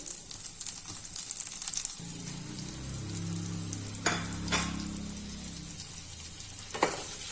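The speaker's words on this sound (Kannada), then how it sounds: "ಬಟರ್ ಕರಗ್ತಾ ಇದೆ, ಪನ್ನೀರ್ ಹಾಕ್ತೀನಿ ಅದ್ರೊಳಗಡೆ. ಫ್ರೈ ಮಾಡಿಕೊಂಡ್ರೆ ಚೆನ್ನಾಗಿರುತ್ತೆ." Paneer pieces fry in melted butter with a little chilli powder on a slow flame, a steady close sizzle with occasional sharp crackles and spatula scrapes, no voices.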